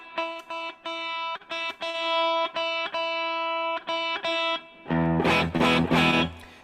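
Electric guitar through an amp and a Vemuram Jan Ray overdrive pedal, a Timmy-style low-gain drive: repeated clean-edged picked chords ring and stop in short rhythmic bursts, then a louder, thicker, more saturated strummed passage at the end.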